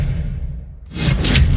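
A spell-casting whoosh from the Hogwarts Legacy video game, a quiet low rumble that swells after about a second into a brighter, louder rushing swoosh alone, with no talking.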